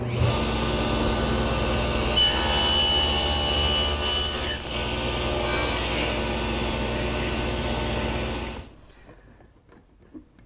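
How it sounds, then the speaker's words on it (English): A table saw fitted with a tenoning jig cuts a tenon cheek in wood, giving a loud continuous whine and cutting roar that stops abruptly near the end, leaving quiet workshop noise. "I'm just moving the fence of the tenoning jig over to make the other cheek cut."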